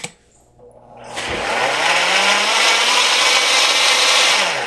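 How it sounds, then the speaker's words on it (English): A blender starts up and runs on a keto kale shake, a loud, steady, close whir that quickly rises and then holds evenly until the end. "I'll blend that in for a second."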